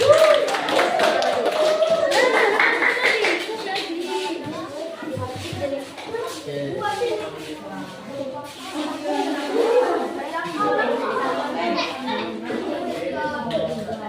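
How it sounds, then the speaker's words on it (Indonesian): A classroom of students claps for a presenting group, a scattered patter that thins into tapping and shuffling, with children's voices and chatter mixed in. "kita beri tepuk tangan untuk kelompok 4"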